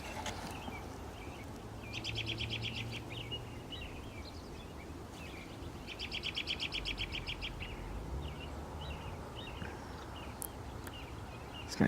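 Bird calling outdoors, two bursts of rapid bright chirps a few seconds apart over a quiet background with faint rustling.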